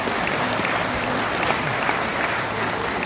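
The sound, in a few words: audience applause for the speaker's parents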